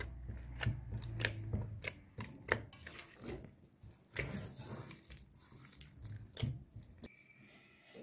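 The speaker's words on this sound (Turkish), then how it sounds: "Ancak 1 çorba kaşığı kadar yağ dahil edip onu da yediriyorum." Hands kneading a spoonful of oil into dough, giving soft, wet squelches and slaps in an irregular rhythm, close and faint.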